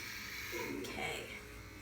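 Electric clippers shaving thick, dark hair off a head, a steady close-up buzzing hum that rises slightly as the blades bite through the hair.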